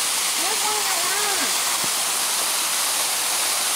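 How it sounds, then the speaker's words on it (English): A big jungle waterfall roars as a dense, steady wash of falling water that fills the whole clip, with a voice briefly audible beneath the din. "and a big waterfall."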